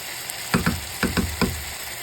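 Codfish and tomatoes sizzle in a cooking pan for a pumpkin and saltfish dish, with a steady frying hiss broken by several soft knocks and clatters as the fish goes in.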